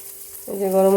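Garam masala mixed in water is poured into a hot curry of pumpkin seeds, setting off a sudden, loud, close sizzle halfway through that keeps hissing steadily to the end.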